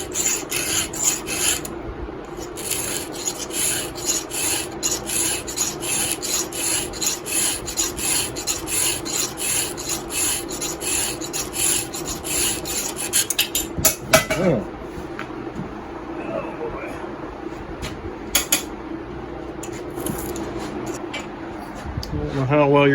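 A hand file sharpens a semi-chisel saw chain with fast, steady rasping strokes in an even rhythm, close and loud, then breaks into scattered scrapes and clinks toward the end. A voice talks intermittently.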